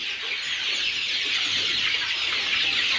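A flock of Egyptian Fayoumi chickens on a poultry farm clucks and chatters continuously, a busy, fairly close mass of overlapping calls.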